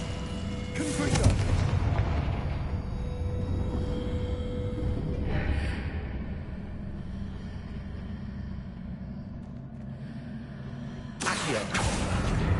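Confringo explosive spell blasts in a Hogwarts video game: booming impacts near the start, another around the middle and one at the end, over a steady rumbling game background.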